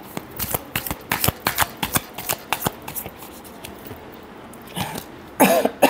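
Tarot cards shuffled by hand for a Gemini reading, a close series of quick crisp riffling flicks in a steady rhythm, ending in a louder, denser burst of shuffling.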